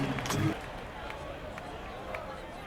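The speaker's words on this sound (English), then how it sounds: "listen to that crowd react" Crowd noise from the Action PC Baseball game, a 1968 Cardinals at Mets replay: a steady synthetic roar of stadium spectators reacting after a hit, louder at the start and then holding as an even background wash.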